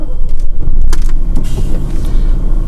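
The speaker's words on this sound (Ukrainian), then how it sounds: "Запускається, добрі акумулятори стоять, запускається він з півоберту" A military truck engine turning over and catching almost instantly, followed by a loud, rough idle rumble with a few sharp mechanical clicks near the vehicle.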